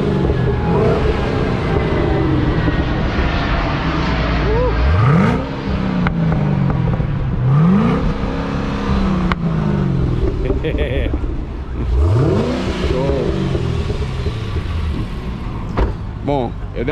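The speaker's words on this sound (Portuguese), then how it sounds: "É um motor bem grande." A big-engined automatic sports car revs hard three times, each rise sweeping up and falling back over a steady idle rumble, with voices in the background.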